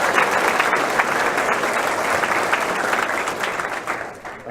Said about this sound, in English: can we give a round of applause for Mike